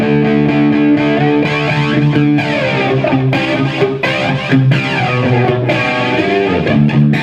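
Distorted electric guitar played through a 2009 guitar rig with a phaser brought in by an expression pedal, giving a loud, sustained, thickened tone with chords ringing continuously.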